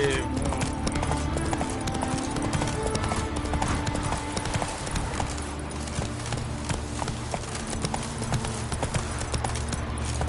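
A horse trotting, with rapid, even clip-clop hoofbeats running steadily for the whole stretch over a dense, loud wash of background noise.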